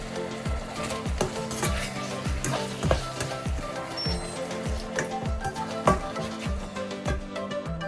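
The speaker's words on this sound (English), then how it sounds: "Now let's add in the shrimp. Combine everything well." Shrimp tossed in a sticky honey garlic sauce in a hot pan, sizzling steadily under a quick series of close scraping stirs from a utensil against the pan.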